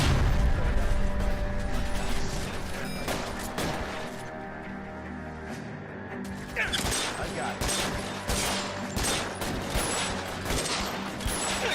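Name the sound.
gunshots in the video game L.A. Noire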